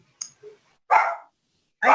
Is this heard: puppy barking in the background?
yes